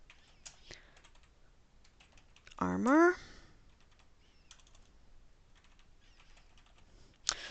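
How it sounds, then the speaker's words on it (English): Someone types on a computer keyboard while setting up GPG keys, giving sparse, quiet clicks spread across the stretch with one brief spoken word partway through. "typing in the wrong spot."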